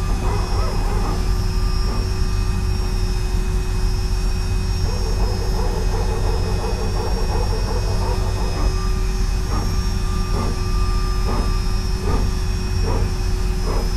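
Airbus A320neo PTU hydraulic pumps in a flight simulator sound pack, heard from the right side of the cabin as a whine over steady engine roar, with repeated short pulsing bursts in the latter half.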